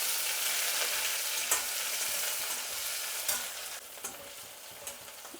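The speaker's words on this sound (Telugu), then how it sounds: "ఇప్పుడు ఎర్రగడ్డ వేసుకుందాం. ఎర్రగడ్డ కొంచెం వేగినాక టమాటా వేసుకుందాం." Onions frying in a hot pan with mustard seeds and pepper make a steady, close sizzle with a few sharp pops and stirring scrapes throughout.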